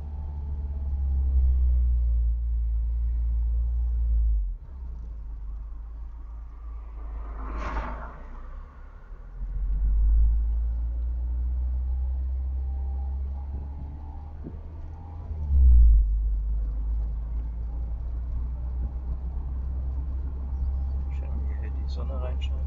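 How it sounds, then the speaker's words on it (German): A car with a slightly loud exhaust idles and rumbles nearby, the low engine drone swelling in a few surges over roughly twenty seconds, with voices talking over it. "Bei deinem Auto haben sie es geguckt, weil der Auspuff doch ein bisschen laut ist."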